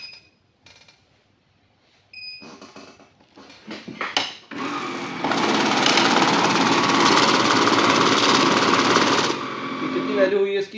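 A money counting machine runs through a mixed stack of 500 and 1000 rupee notes, starting after a few clicks and beeps and whirring steadily and loudly for several seconds before stopping with a final beep.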